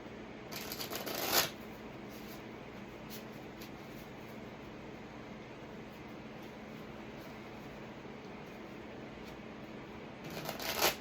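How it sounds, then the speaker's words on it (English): A tarot card deck is shuffled at close range, with a sharp riffling burst near the start and another at the end. A faint, steady hiss fills the quiet between them. "Bit of a tricky deck to shuffle."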